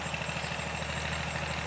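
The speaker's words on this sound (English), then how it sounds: "today it's a little noisy because the tractor's in the background" A tractor engine idles steadily in the background of a farm garden, a low rhythmic throb with constant mid-range rumble and no voices over it.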